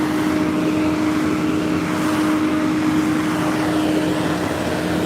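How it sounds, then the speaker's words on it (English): A heavy cement mixer truck passing, its engine rumbling loudly and steadily up close, a constant low drone with a droning tonal hum, no voices over it. "Literally a cement mixing truck."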